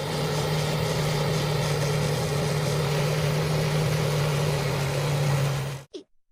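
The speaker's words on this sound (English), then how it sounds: "It is an electric weeding machine that uses high voltage to eliminate weeds without chemicals." A tractor running a high-voltage electric weeding machine in a farm field gives a steady, loud engine drone with a strong low hum that holds unbroken for about six seconds, then cuts off abruptly.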